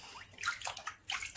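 Hand-spun yarn rinsed in a basin of water: short sloshing and splashing bursts in quick succession, close and clear with no voices.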